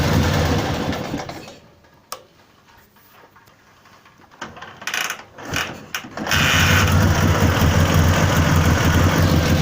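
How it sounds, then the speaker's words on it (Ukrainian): A Dnipro 11 motorcycle engine runs close and loud with a steady clattering idle, drops away to near silence with a few sharp knocks and sputters, then fires back up and runs hard and steady again. "Але оберти бере. попробую ще покрутити, а так загалом працює, заводиться добре."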